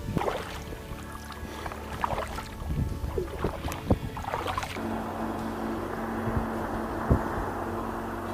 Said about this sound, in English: We're going to start paddling, aren't we?